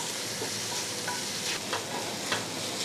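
Chopped tomato with a pinch of salt sautéing in a pan, a steady close sizzle with soft scraping strokes of a spatula running through it, no voices.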